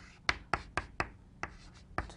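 Chalk writing on a classroom board during a linear algebra lecture: a quick series of about seven sharp taps and short scratchy strokes, close and distinct, with no talking.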